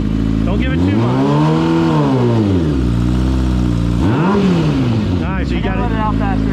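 A car engine revving hard during a burnout attempt, its pitch climbing and falling in long sweeping pulls, loud and close, with a voice talking over it.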